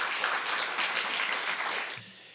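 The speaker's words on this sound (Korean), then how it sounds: "박수 한번 해주세요." A church congregation at an ordination service claps steadily in a dense, sustained round of applause that fills the room, then cuts off abruptly near the end.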